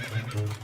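A cartoon horse gives a short, loud neigh, a brief whinnying call with no talk over it.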